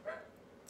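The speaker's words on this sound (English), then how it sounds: "Excuse the dog in the background." A single short dog bark or yip, faint and distant, in an otherwise quiet room.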